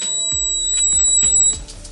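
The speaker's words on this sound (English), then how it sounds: "So when it's done, it gives a few beeps." A Nuwave Primo grill oven signals the end of cooking with a few short electronic beeps, sounding close and clear over a faint background hum.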